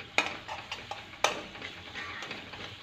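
Masala with mashed tomatoes fries quietly in a pan, a soft sizzle broken by a few sharp clinks and scrapes of a spoon stirring against the metal.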